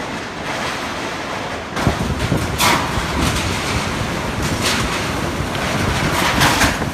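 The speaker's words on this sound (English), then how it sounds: "Strong winds howled through streets and neighborhoods" Strong storm winds roar steadily through the streets of Xi'an during a typhoon with heavy rain, a loud, continuous rushing blast with buffeting gusts against the microphone, no voices.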